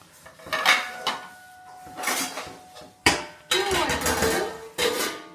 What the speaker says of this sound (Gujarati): बर्तन साफ कर रही है, लूछ रही है, पोंछ रही है